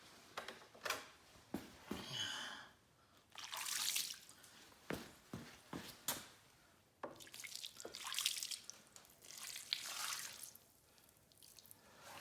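Water splashing and dripping as a car battery is rinsed off, with intermittent pours and trickles broken by brief pauses, fairly close and moderate in level, with no talking.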